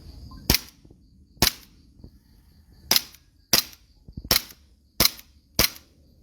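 Seven sharp Glock 17 pistol shots fired one at a time at a firing range, loud and close with uneven gaps of roughly half a second to a second and a half, no talking between them.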